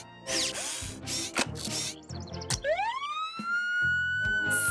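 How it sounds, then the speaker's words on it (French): A cartoon fire truck siren played through a keyboard rises into a long, sustained wailing tone, preceded by clattering mechanical ratchet and tool-like bursts and short electronic chirps. "Grâce à ça, je peux connecter le clavier à la sirène du camion de pompier."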